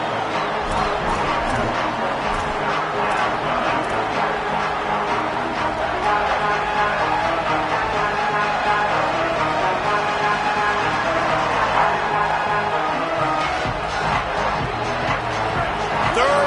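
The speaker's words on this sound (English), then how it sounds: "this crowd is at fever pitch" A college football stadium crowd roaring continuously at a tense red-zone moment, a dense, loud wall of cheering throughout.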